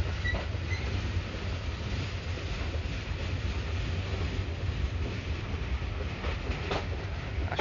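A moving train on the rail route between Parbatipur and Kurigram gives a steady low rumble with faint rhythmic clatter and a thin metallic squeal, heard continuously from inside the carriage.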